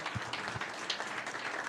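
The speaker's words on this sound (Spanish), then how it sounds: "Démosle un aplauso al Señor" A church congregation applauds briefly, a soft, fairly faint patter of many hands clapping with a few louder individual claps standing out.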